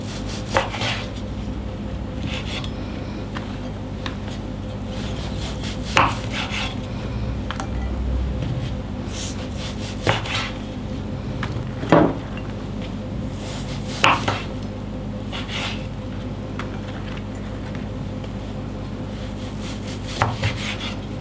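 Knife cutting through fried tofu puffs (tahu pong) on a board, a series of sparse, sharp taps and scrapes spaced a few seconds apart over a steady low kitchen hum, with no talking.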